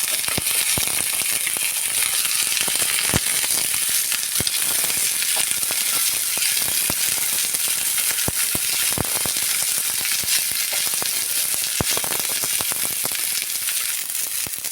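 Onions frying in oil with green chilli, a steady dense sizzle that carries on without a break, with sharp crackles and pops scattered throughout, loud and close, no voices.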